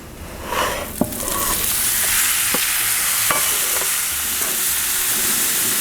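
Steak laid onto a hot Blackstone griddle: a burst of loud sizzling builds and holds as a steady hiss, with a few sharp metallic taps and clinks early on.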